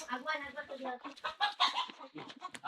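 Jungle fowl clucking up close in a hillside setting, a few short agitated clucks and squawks mixed with people talking over them.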